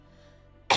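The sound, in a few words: cough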